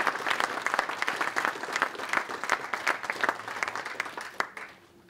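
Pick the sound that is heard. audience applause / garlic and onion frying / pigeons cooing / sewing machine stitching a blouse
audience applause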